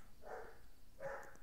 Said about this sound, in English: A dog's barking outside